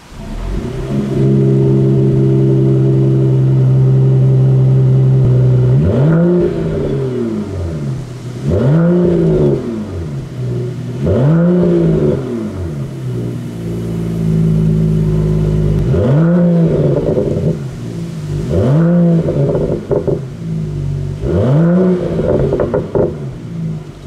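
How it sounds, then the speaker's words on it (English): 2018 Mercedes-Benz E53 AMG engine with its exhaust valves open in Sport Plus mode, first holding a steady idle, then blipped into a series of about eight sharp revs that rise and fall in quick succession, loud and close. "In sport plus, even though there's no actual exhaust icon here, the exhaust valves do open"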